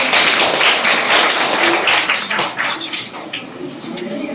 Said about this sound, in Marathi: मॅडमसाठी जोरदार टाळ्या होऊ द्या